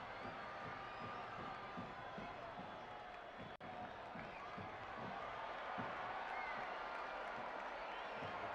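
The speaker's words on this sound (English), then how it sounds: "Crowds picked up new life" Stadium crowd at a Hartford Athletic versus Charlotte Independence soccer match in 2019, giving a steady, distant roar of cheering and murmur with scattered claps throughout.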